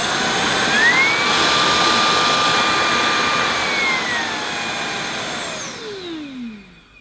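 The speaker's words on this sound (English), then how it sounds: "So by default, the machine switches on to standard mode. This gives you a boost of suction." Vax ONEPWR Blade 4 Pet cordless vacuum cleaner running in standard mode, a loud close whirring motor that spins up, holds a steady high whine for several seconds, then winds down with a falling pitch.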